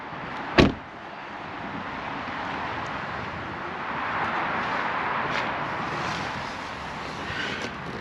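Inside a Mercedes-Benz S560 Cabriolet with a 4-litre V8, the cup holder cover slides back with a single sharp click or thump near the start. A steady low cabin rumble with faint mechanical sounds continues afterwards.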